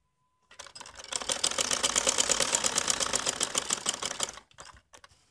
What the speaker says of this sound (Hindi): इसके बाद मैं इसी तरीके से दूसरी तरफ भी फिटिंग की सिलाई लगा लूंगी